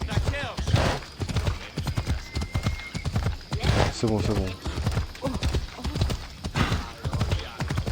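Rhythmic clip-clop of horse hooves galloping with an occasional whinny in the video game Assassin's Creed Odyssey, running under steady excited talk.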